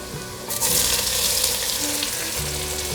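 Shiitake mushrooms and tofu skin are stir-fried in a wok for a vegan home-style dish. A loud, steady sizzle bursts in after half a second and continues close up.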